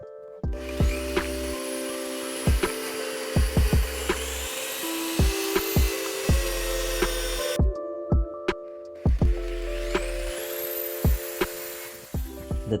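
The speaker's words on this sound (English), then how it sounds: "Some more drilling action." Power drill whirring in repeated bursts, drilling holes in a bonsai pot, with sharp knocks and clunks between runs, close and fairly loud, no talking.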